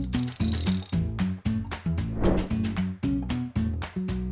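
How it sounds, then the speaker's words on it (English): A Torx wrench tightens a new or cleaned banjo bolt on the turbocharger of a Peugeot 206 1.4 HDI, giving rhythmic ratcheting clicks in steady repeated strokes over a tonal, music-like background. "Finish off the tightening with a Torx wrench."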